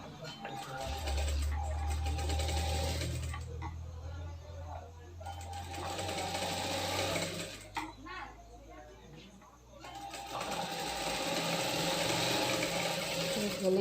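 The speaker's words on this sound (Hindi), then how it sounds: "गले की सिलाई लग चुकी है।" A sewing machine stitches a katori blouse, its fast even whirring running in long bursts with short pauses, up close and loud.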